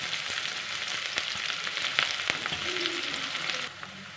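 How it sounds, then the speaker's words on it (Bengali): Small cubed onions fry in hot spiced oil for crab dopeyaja, a steady close sizzle with occasional stirring taps and crackles that thin out near the end, no voices. "এর মধ্যে এখন আমি ছোট করে কিউব করে যে পেঁয়াজটাকে কেটেছি সেই পেঁয়াজটাকে দিয়ে এখন একটু ভেজে নেব।"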